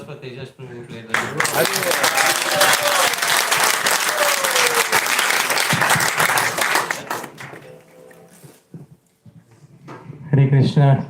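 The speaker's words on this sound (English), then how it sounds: "Let's have applause for Tejas Prabhu" Devotees at a Hare Krishna gathering applaud loudly for several seconds, the clapping then thinning and fading, with voices and a brief microphone sound near the end.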